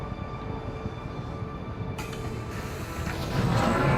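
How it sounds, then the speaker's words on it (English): Tram departing a station in the Star Citizen video game, a steady mechanical rumble and hum with a rising rolling rush as it pulls away and gains speed, no talk. "Tram now leaving the station."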